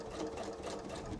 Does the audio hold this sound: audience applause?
no